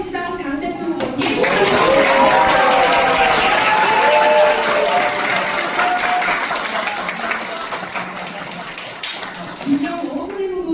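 Applause and cheering in a National Assembly hall as guests are introduced at a youth party meeting, a loud, sustained crowd clapping for several seconds with a few voices rising over it before it tapers off.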